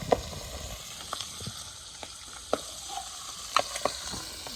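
Spices sizzle in a pan outdoors, sautéed as the base for a curry of tangra fish and dried fish, with a soft, steady fry broken by sharp scrapes and clacks from a stirring utensil.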